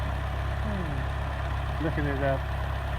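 An old John Deere 2020 farm tractor idles in a pasture with a steady, low, throbbing engine rumble that continues throughout, while a voice talks briefly over it.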